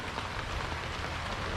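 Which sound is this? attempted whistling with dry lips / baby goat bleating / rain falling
rain falling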